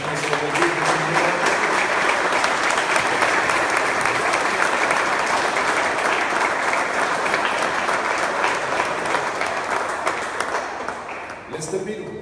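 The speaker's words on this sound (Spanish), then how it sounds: "Un aplauso a nuestro bendito Señor." A church congregation applauds at a Spanish-language worship service, dense sustained clapping that fills nearly the whole stretch before fading out near the end.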